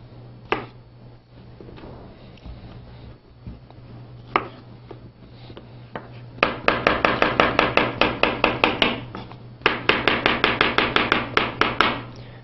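A knife chopping cucumber on a board for a cracked wheat, kale and edamame salad, a few isolated cuts and then fast, steady runs of crisp close chops with no talking.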